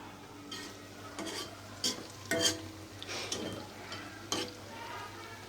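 Kachki fish and pumpkin flower fritters fry in hot oil with a soft, steady sizzle, broken by several sharper bursts as batter is stirred and turned in the pan.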